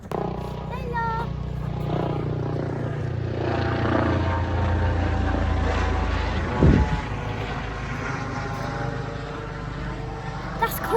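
A low-flying plane passes overhead at the end of the Birmingham Airport runway, a loud, sustained engine roar that swells and holds for several seconds, with faint talk from onlookers beneath it.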